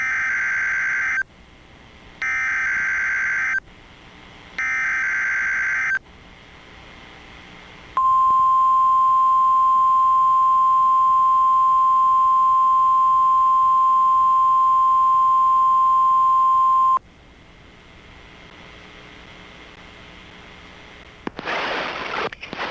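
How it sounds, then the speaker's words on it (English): A NOAA Weather Radio public warning alarm test for the Florida area: three loud screeching bursts of digital data tones, then a long steady single-pitch alarm tone lasting about nine seconds, quiet, and a short harsh burst at the end. "The preceding signal was a test of the public warning and alarm for transmitters in the Florida listening area"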